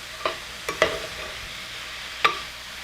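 Vegetables for spring rolls stir-frying in a pan, a soft background sizzle broken by a few sharp scraping clacks of the utensil, close and without talk.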